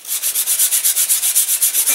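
Rapid back-and-forth sanding on a balsa catapult glider part, loud and close, with about fifteen even rhythmic strokes and no voices.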